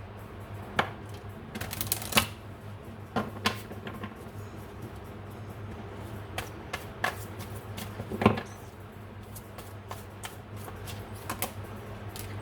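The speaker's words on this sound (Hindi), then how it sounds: "चलिए एक बार ट्रू लव ऑरेकल डेक से भी कार्ड निकाल लेते हैं और देख लेते हैं" Cards from a True Love Oracle deck are shuffled and drawn by hand: sparse, soft clicks and light snaps scattered irregularly over a steady low room hum, with no talking.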